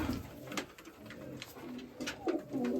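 A Mykolaiv-breed pigeon in flight outdoors, with a few soft coos and brief wing flutters, fairly faint against a light background hum.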